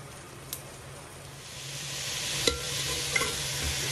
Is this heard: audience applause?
no